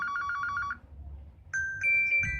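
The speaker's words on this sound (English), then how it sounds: "Let's see the tunes are cartoon, classic bell, digital ring" Ringtone previews on a Huawei Nova 2i phone: a rapid, bright electronic trill cuts off, and after a short pause a different melodic tone starts, loud and close with no talking.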